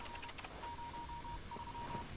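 Phone dialing tones during a live esports tournament broadcast of Identity V, a steady beeping tone pulsing in a few segments over a faint noisy background.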